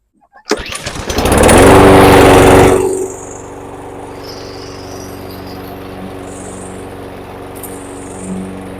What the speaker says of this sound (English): I'm gonna go ahead and start my mower up